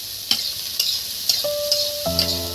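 Chopped garlic fries in a pan with a soft hiss, punctuated by several sharp taps of a utensil against the pan and a ringing metallic tone, close and without speech.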